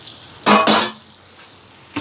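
Spices and masala being stirred into chicken biryani in a pot, two close scraping clatters of a spoon against the metal, then a quiet pause and a brief final scrape.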